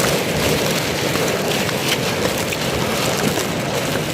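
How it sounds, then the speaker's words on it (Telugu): Rain falls outdoors during a walk near the Ganga at an ashram in the hills, a dense, even hiss that runs steadily throughout, close and fairly loud, with no talk. "వర్షం పడుతుంది,"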